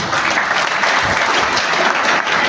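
Steady, dense applause from an audience welcoming the German ambassador to Kenya to the podium, many hands clapping evenly and close for the whole stretch with no voices over it.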